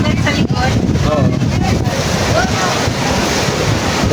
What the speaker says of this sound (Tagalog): Dagat.